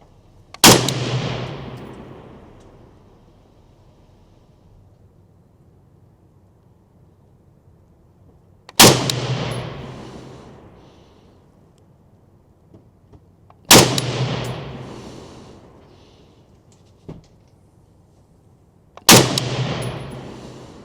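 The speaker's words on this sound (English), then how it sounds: "see how it's performing and shooting at the 100-yard range." Four single rifle shots from a Steyr AUG A3 M2 bullpup fired at a 100-yard range in cold winter conditions, each a sharp, loud crack with a long outdoor echo, spaced several seconds apart.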